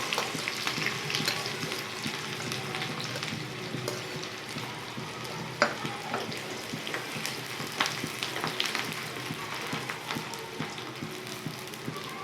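Onion frying in a pan for sev poha, a continuous crackling sizzle with scattered pops and scraping clicks of stirring, moderately loud and steady throughout, no voices.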